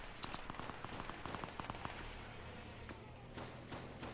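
Gunfire in Fortnite Battle Royale's 50 v 50 mode: a rapid burst of faint, sharp shots in the opening seconds, then a few isolated cracks near the end, somewhat distant.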